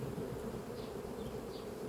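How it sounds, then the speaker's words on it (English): A honeybee swarm, recently moved from a tree into a box and now settled as a working hive, hums with a dense, steady buzz, close and continuous, with a few individual bees passing nearby. "So that's a swarm, somebody swarmed from a tree into a box."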